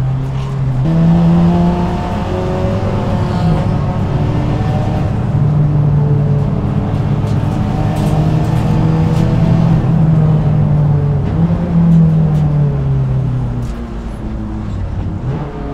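A Renault R21 Turbo Europa Cup race car with 300 hp through the front wheels, its turbo engine loud and close, revving up and down in long sweeps through gear changes, with no talk.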